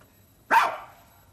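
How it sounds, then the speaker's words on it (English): A sampled dog bark is played back by a 1984 BBC Micro computer: a single short, bright yap rising out of quiet and tailing off, clear and alone. "Ah, the obligatory dog."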